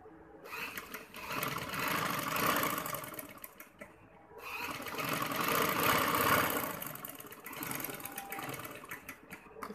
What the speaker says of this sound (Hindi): सिलाई लगाएंगे।